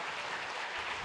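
A church congregation applauds the Lord in a brief, dense wash of steady clapping that is even in level and has no voices over it.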